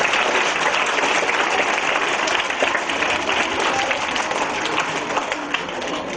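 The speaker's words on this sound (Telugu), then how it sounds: "క్లాప్స్ కొట్టండి మరి" Children in a classroom clap together on Children's Day, a sustained burst of many small hands applauding evenly and fairly loud for several seconds.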